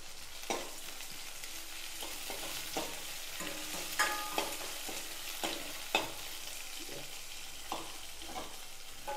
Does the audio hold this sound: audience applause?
no